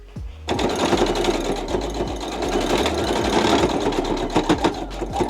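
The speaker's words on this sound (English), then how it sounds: "Now what I'm going to do is run a stitch all the way around just to keep these gathers into place." A sewing machine stitches around gathered fabric on balloon pants, starting abruptly and running in a fast, steady rhythmic chatter with pulsing motor thumps, close and loud.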